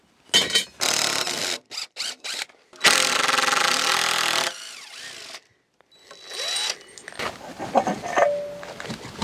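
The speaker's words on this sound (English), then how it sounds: "So I've got this small drill bit that's made for rock, but it's super slow." A power drill with a small rock bit grinds into rock in loud, broken bursts, with a long sustained run in the middle, then quieter scraping and clatter.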